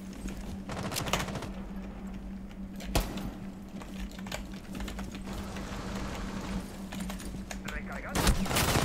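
Gunfire in Rainbow Six Siege, a few sharp shots and short bursts standing out over continuous game noise, a steady hum and clicking keyboard typing, with talk underneath.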